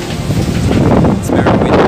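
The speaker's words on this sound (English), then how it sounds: "It's very windy." Strong wind gusts across the microphone on a sunny beach by a cliff and lighthouse at Lazi Bay, Siquijor, a loud, steady roar of buffeting noise that swells toward the end.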